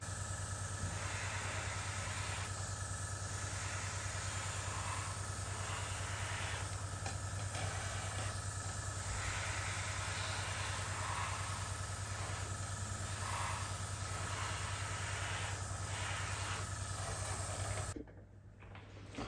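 An airbrush sprays weathering onto the body and underframe of a model Class 37 diesel locomotive, giving a steady, continuous close hiss that pulses slightly in strength and cuts off near the end.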